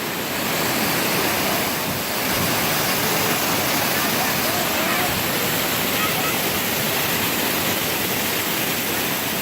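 Waterfall over a hot spring roars as a dense, constant wash of falling water, loud and close, filling the scene without pause.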